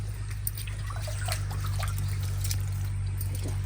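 Water pours in a steady trickle for washing in a rural village setting, a continuous splashing stream close by over a low background hum.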